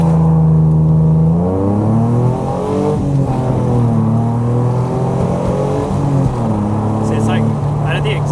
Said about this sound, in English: it's like out of the exhaust that it's like popping in the exhaust